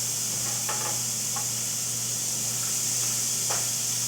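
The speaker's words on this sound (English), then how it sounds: "I love the sizzle and sound and smell of onions." Onions sizzling in a pan with beef, a steady broadband hiss running throughout with a low hum underneath and a few faint clicks of stirring.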